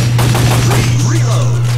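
Rapid bursts of gunfire in the PS1 shooter Time Crisis, loud dense shots packed together over a constant low hum.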